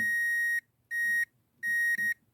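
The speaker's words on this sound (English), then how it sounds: "you can clearly hear that it beeps" Three clear, high-pitched electronic continuity beeps from a multimeter with short gaps, the last one briefly broken, steady and close with faint handling noise underneath.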